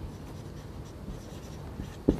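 A pen or marker scratches briefly while a math solution is written out, a soft faint scraping ending in a sharper tap, with no voices.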